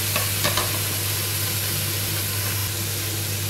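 Bell pepper, onion and chili sautéing in a pan for an Indian-style chicken dish, a dense steady sizzle close by with a low constant hum beneath and a couple of brief stirring clatters early on.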